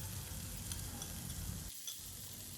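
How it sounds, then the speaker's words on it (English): Chopped fenugreek (methi) leaves sauteing in hot melted ghee in a pan, a steady close sizzle with stirring scrapes that briefly dips near the end, no voices. "when the ghee has melted and is hot enough, we will add the chopped fenugreek or methi leaves"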